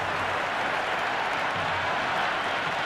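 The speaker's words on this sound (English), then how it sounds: "The spectators are absolutely buzzing right now" Cricket spectators in the video game Cricket 26 cheering after a big hit for six, a loud steady wash of applause and crowd roar filling the whole stretch without a break.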